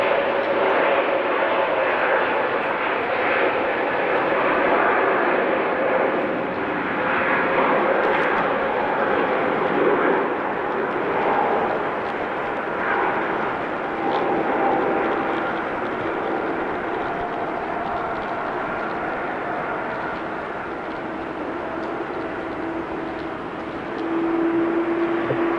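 An airliner at Amsterdam Schiphol, on runway 18 Left, the Aalsmeerbaan, gives a loud, sustained engine roar that swells and eases gradually, alone with no talk.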